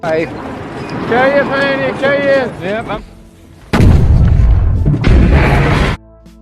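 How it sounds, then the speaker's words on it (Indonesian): A voice talks first, then a loud, booming explosion-like blast roars for a couple of seconds, stops briefly, and continues before cutting off. "terjadi ledakan"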